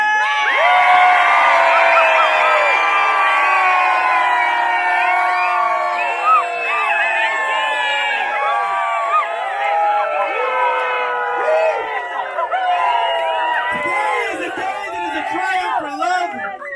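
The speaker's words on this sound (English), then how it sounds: "give a cheer of support in whatever form suits you. It can be a hoot, a holler, a hallelujah, an amen, or a primal scream" Wedding guests erupt in sustained cheering, whoops and hollers, a loud crowd of voices shouting together and holding strong before tapering slightly near the end.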